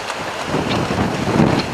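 Strong 26-knot wind roars across a sailboat on the open Pacific between San Francisco and Hawaii, a steady broadband buffeting with low rumbling gusts and rushing water, loud and continuous with no voices.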